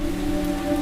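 Steady heavy rain pouring down during a days-long city storm, a loud, dense, unbroken hiss with no voices.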